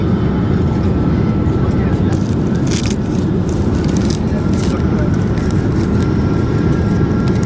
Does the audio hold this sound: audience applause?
no